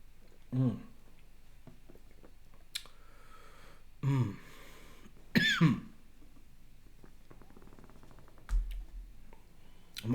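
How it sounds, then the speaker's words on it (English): A man with a dry throat coughs and clears his throat several times in short separate bursts, with quiet clicks between them in an otherwise still room. "Pardon my coughing, throat's a little dry."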